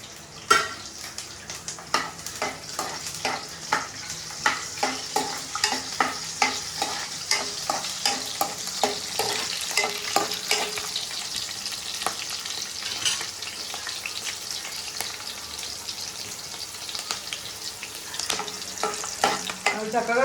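Green chillies with curry leaves fry in hot oil under a steady sizzle, while a spoon stirs with rhythmic repeated scrapes and taps against the pan, close and moderately quiet.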